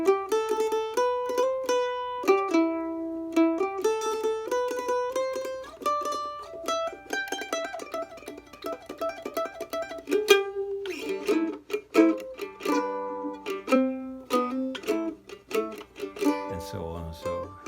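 A mandolin picks its way through a guitar solo, bright plucked notes in quick runs and tremolo-picked passages that grow busier toward the end, played solo and close with no talk.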